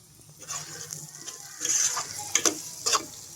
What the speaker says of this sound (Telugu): మనకు ఉల్లిపాయలు పచ్చిమిరకాయలు ములక్కాయలు కూడా బాగా మగ్గుకొని చికెన్ ఇందులో తీసుకుంటున్నాను